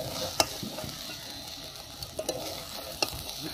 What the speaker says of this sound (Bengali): এইভাবে ঘিটা দিয়ে আমি ভালো করে মিশিয়ে নেব।